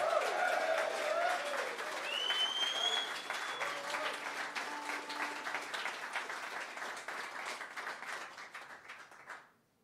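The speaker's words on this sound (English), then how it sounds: "Big round of applause for Mick Broadbent on bass guitar" An audience at a live blues-rock show gives sustained applause for bass guitarist Mick Broadbent, steady and moderately loud with a few whoops and whistles, fading out at the end.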